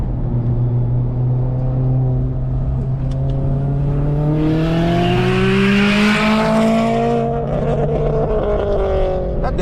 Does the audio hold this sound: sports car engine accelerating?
yes